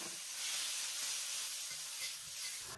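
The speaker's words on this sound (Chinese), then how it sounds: "所以这里直接就倒五花肉。" Pork belly hits a hot iron wok that is already oiled and heated from frying tofu, setting off a steady, close hiss of sizzling that keeps on with no talk over it.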